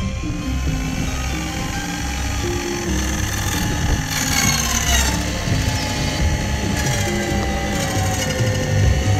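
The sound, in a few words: saw with a glass blade cutting clamped wood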